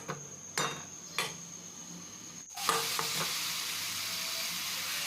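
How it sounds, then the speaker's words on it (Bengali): A spoon scrapes a few times through bitter gourd and potato curry in a wok, then a loud, steady sizzle of frying takes over and continues close by. "নাড়াচাড়া করে ভালোভাবে মিক্স করে নিতে হবে"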